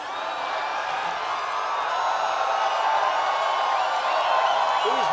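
A large crowd at a Trump political rally cheers and roars in one continuous wall of sound. It stays loud and steady throughout, with whoops rising above the mass of voices.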